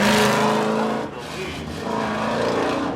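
A Chevy C10 truck and a Volkswagen GTI race in spectator drags at Seekonk Speedway, their engines droning as a tonal hum that fades briefly and then swells again, heard at moderate distance for a few seconds.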